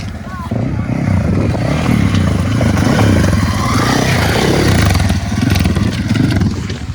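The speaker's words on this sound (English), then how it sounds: "We're sharing it with motorcycles." Motorcycle engines drone and rev continuously nearby on a Moab trail, a loud, rough roar that rises and falls as the bikes ride past.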